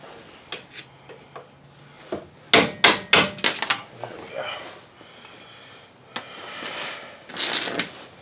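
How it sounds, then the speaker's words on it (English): Several quick metal strikes in a short burst as a screwdriver is hammered through a bolt on a Hyundai Elantra, ringing clinks close by, with quiet rustling and a few softer knocks around them. "This one I'll have to hammer through with the screwdriver."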